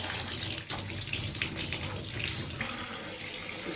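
Water runs and splashes from a teapot during a nasal rinse, a close, steady trickle pouring into a sink with brief splashy bursts.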